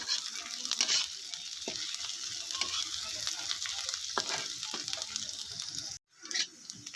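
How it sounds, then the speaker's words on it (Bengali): Onion and slit green chillies fry in hot mustard oil, giving a continuous close sizzle with crackling pops and occasional stirring scrapes, a brief dropout near the end before the sizzle resumes. "তেল গরম হয়ে গেলে এবার আমি পেঁয়াজটা দিয়ে দিচ্ছি আর দিয়ে দেবো কাঁচা লঙ্কা চেরা। এটা আমি ভালো করে ভেজে নেব।"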